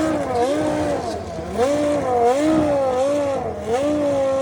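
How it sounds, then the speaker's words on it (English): A Red 5 Formula 1 car with active suspension starts up at the Goodwood Festival of Speed, its engine a loud, steady drone that rises and falls in repeated revving swells across the clip. "There were so many incredible cars to see, including Red 5. Watch closely when it starts"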